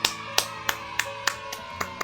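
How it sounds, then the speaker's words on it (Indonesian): Children clap in a fifth-grade classroom: about seven sharp, evenly spaced claps in a steady rhythm, heard over a sustained musical tone in the background. "Nah, tepuk tangan untuk teman-teman semua."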